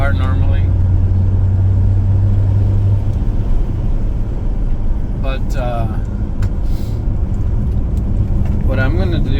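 Engine of a Volvo XC90 V8 turbo hums and rumbles steadily while the car drives, loud and close throughout, with someone talking over it.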